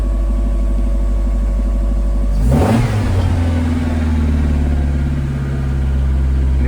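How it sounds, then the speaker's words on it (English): A 1990 Ford Orion Equipe engine runs while stationary, a low steady idle that jumps into a sudden rev, then settles into a higher hanging idle that drones on, close and loud. "And the revs are hanging, but it runs."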